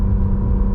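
A 2017 Acura NSX accelerating in first gear gives a loud, steady, low engine rumble up close for a brief moment, with no talking.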